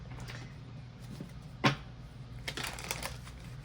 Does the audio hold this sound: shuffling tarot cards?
yes